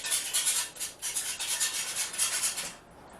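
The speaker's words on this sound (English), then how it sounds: "you want to whisk this up." A whisk beats raw eggs in a bowl for an egg wash, making quick rhythmic scraping strokes that run steadily for almost three seconds and then stop.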